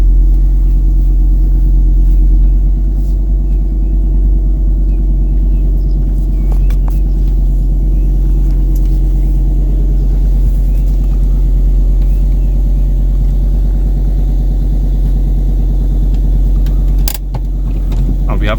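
Volvo S60 driving after a front suspension rebuild: a constant, heavy low cabin rumble of engine and road noise, steady and loud throughout, with a brief dip and faint rattles near the end.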